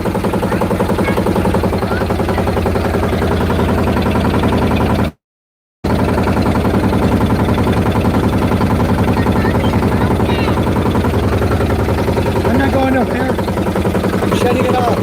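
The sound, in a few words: 25 horsepower boat engine running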